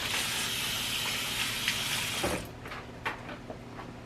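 Water pours steadily onto a potted plant in fresh soil indoors, a continuous gush that stops after about two seconds and leaves a few scattered drips and trickles.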